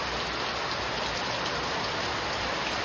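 Steady rain pours down outdoors, a dense, continuous wash of drops spattering on surfaces, loud and unbroken, with no voices.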